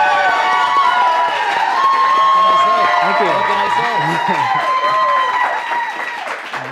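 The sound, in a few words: studio audience cheering and wooing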